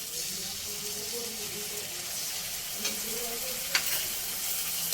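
Noodles stirred in a hot pan with soy sauce and red chili sauce for restaurant-style Chinese noodles, a steady close sizzle with soft scraping strokes and a couple of brief clinks, no talking.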